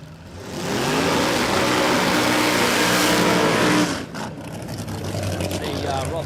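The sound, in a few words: 1955 FC Holden drag car engine at Warwick Dragway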